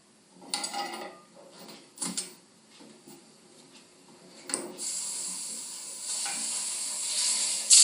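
A beef blade roast sears in a hot pan for pot roast, with a steady sizzle that builds louder toward the end, broken by clattering pan and utensil knocks early on.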